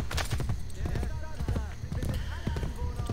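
Horse hooves clip-clop in Assassin's Creed Brotherhood, a quick steady trot under a busy game soundscape, with voices talking over it.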